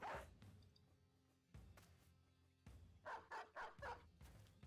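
A dog is released in the Battle Brothers video game, with short barks and thumping impacts over a low game-music bed, all at moderate loudness with no talk.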